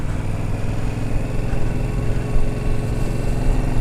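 A Yamaha Tracer 700 motorcycle from 2020 with its CP2 engine runs in a loud, steady, throbbing drone, the twin-cylinder pulse close and continuous throughout with no talk.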